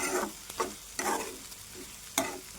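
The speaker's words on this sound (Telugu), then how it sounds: "ఉల్లిపాయ కూడా వేగాలండి, పచ్చివాసన పోవాలి." Onions and curry leaves fry in a pan for an ivy gourd and egg curry, a steady sizzle broken by several sharp scraping strokes as a spoon stirs them. No one speaks.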